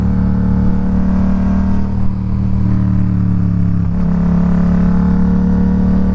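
A Yamaha MT-07 motorcycle engine drones steadily while riding, a loud continuous rumble with a couple of brief shifts in pitch as speed changes, no talking.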